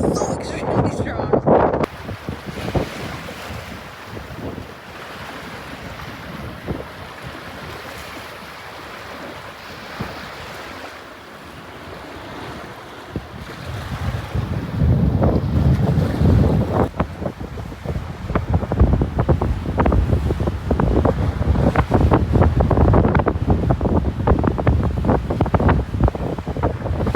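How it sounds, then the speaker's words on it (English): Strong, gusty wind roars over the microphone beside the water in Alaska, with surf and buffeting rumble filling the whole stretch and growing heavier in the second half. "The wind is so extremely strong, like so extremely strong."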